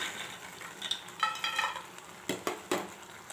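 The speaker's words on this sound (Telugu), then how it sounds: "ఇప్పుడు మొత్తం ఒకసారి కలిపేసుకుందాం." Brinjal pieces and black-eyed peas being stirred together in oil in a pan, a faint sizzle under a few distinct scraping clinks of a spoon against the metal.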